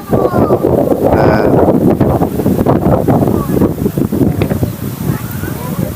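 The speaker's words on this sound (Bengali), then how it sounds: "অনেক মেঘ করছে, বাতাস হইতেছে।" Gusty wind on a cloudy day at Eco Park in Kolkata buffets the microphone with a heavy, uneven low rumble that surges and eases for several seconds.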